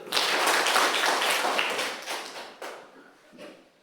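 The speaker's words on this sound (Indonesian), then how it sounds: "Tepuk tangan untuk Farel dulu" A classroom of students applauding for a classmate, a short burst of dense clapping that starts loud and thins out over a few seconds.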